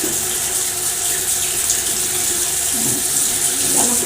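A tap runs steadily into a sink or basin as water is prepared for bathing kittens, a continuous close hiss and splash with no break.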